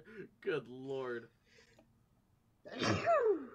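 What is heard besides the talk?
sneeze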